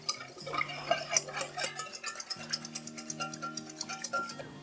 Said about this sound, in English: Then whisk.